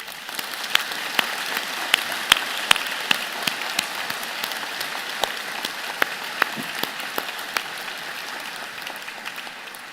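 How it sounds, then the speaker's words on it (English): Sustained applause from a large crowd at a university convocation ceremony, steady dense clapping filling the hall with a few sharper individual claps standing out, no voices over it. "vigorous round of applause."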